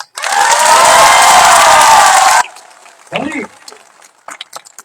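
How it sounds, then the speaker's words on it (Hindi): A rally crowd at a political joining program claps and cheers loudly for a couple of seconds, then cuts off, followed by a brief shout and scattered faint noise. "हंसों के लिए भी ताली मारो।"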